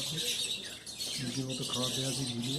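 Small birds chirp and tweet at a feeding spot in Darjeeling, a steady busy twitter of calls with voices talking over it throughout.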